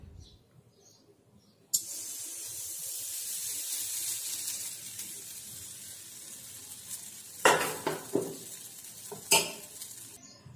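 A ground rice and curd batter hits hot oil in a wok, bursting into a loud continuous sizzle, followed by several sharp metal scrapes and clanks of stirring near the end.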